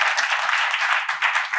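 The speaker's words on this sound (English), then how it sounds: "Yeah, you can clap for that." Brief, bright applause from a crowd at a WalkMassachusetts annual celebration, steady scattered clapping through the whole moment.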